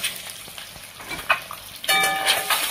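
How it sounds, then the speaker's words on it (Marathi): Eggs frying in oil in a pan for egg biryani, a steady crackling sizzle with a few spatula taps and a louder burst of spitting near the end, close by with no one talking. "अजून 5 मिनिटं तळून घेऊया अंड्याला"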